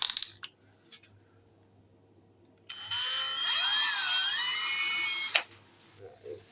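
A drill bores a hole through a soft vermiculite block for a mini gas forge, a steady high whirring grind lasting about three seconds after a few light taps, close and loud, with no talk.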